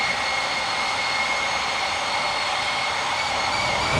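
A steady, loud jet engine roar with a high whine, constant for a few seconds, from a VC10 airliner in flight in the FSX flight simulator game, with no talking.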